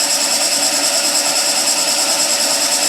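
A skew chisel cutting timber on a running wood lathe, giving a loud, continuous whirring hiss with a steady rotational pulse and no pauses.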